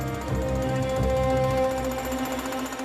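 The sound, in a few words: jackhammer demolishing a kitchen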